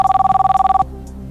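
A telephone rings for a phone-a-friend call on a French TV quiz show: a rapid electronic trill pulsing steadily for under a second, loud and close, then cutting off into near silence.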